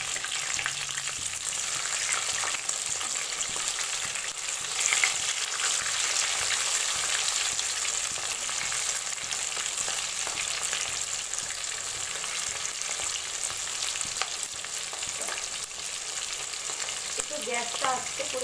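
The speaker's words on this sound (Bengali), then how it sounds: "একটু গ্যাসটা আস্তে করে ফ্রাই করতে হবে" Chicken satay pieces fry in a pan over low gas, giving a steady close sizzle with faint stirring clinks and a brief scrape near the end.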